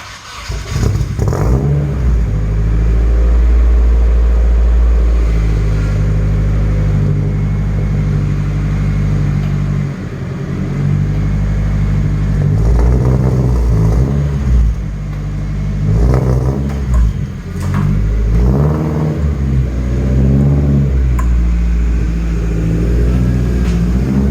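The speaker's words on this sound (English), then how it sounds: "we're gonna drop it down and see if we can take it for a quick test drive here" A Nissan 240SX engine drones loudly and close on a test drive, holding long steady revs that rise and fall as it shifts, with a stretch of uneven throttle blips and lugging toward the end.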